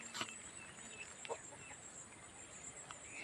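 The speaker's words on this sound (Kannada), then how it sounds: "ನಮ್ಮ ಕೋಳಿಗಳು ಒಂದೊಂದು ತಂಗಿ ಸಸಿ ಹತ್ರ ಮೇಯ್ತಾ ಇರ್ತವೆ." Free-ranging farm chickens grazing near a plant, with a few brief clucks rising from a faint outdoor background and a steady high insect-like hum.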